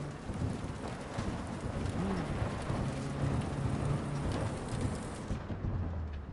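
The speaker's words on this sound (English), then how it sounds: "That is one hell of a storm." A thunderstorm in the video game Cyberpunk 2077, with heavy, steady rain hissing down and low rumbling thunder rolling underneath, loud and continuous, briefly joined by a low tonal engine-like drone.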